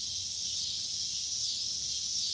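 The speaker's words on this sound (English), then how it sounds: "Cicadas, yes, cicadas. Can you guys hear those? The obnoxious cicadas." Cicadas buzzing in a steady, loud high-pitched drone that fills the whole stretch without pause, heard alone with no talk over it.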